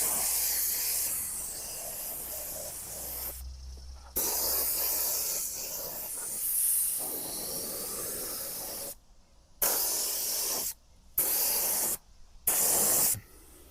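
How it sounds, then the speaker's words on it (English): An HVLP spray paint gun sprays a final coat of paint in long steady bursts of airy hiss, stopping briefly several times between passes, close and fairly loud. "I spray the whole entire thing with a final coat."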